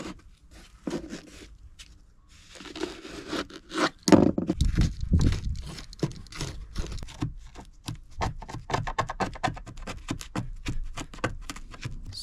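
Stanley knife blade slicing and scraping along the edge of stretchy carpet lining inside a Ford Transit Custom camper van, a steady run of close, dry cutting scratches and small scrapes after a quieter start.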